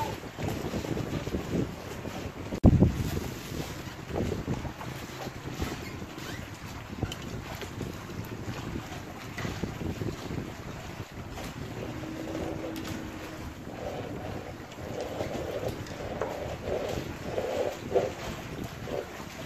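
Wind gusts buffet the microphone on a river while fishing from a boat in rainy weather, a continuous rough rush with occasional louder thumps and no talk.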